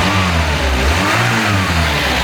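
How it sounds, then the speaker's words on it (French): A Renault 11 GTL engine, restarted after eleven years unused, revs loudly and steadily close by, its exhaust rasping through a hole in the pipe, with no talk over it. "Vas-y, redonne un coup d'accélération."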